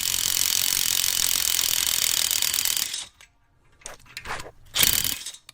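A ratchet clicks rapidly and steadily for about three seconds while loosening a spinning downpipe bolt on a Honda Type R during a 27WON downpipe install, then stops and gives way to a few short, sharper bursts of clicking.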